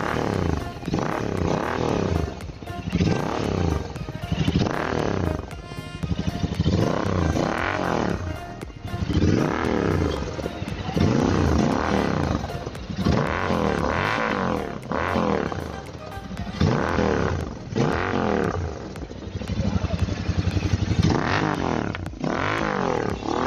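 Royal Enfield Interceptor 650 twin exhaust fitted with a dB killer, revved repeatedly in loud rising and falling bursts that roar and settle throughout, close to the bike.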